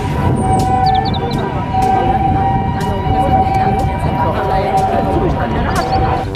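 A loud, steady electronic siren tone from a toy ambulance, with a voice talking over it in Indonesian and a few sharp clicks throughout.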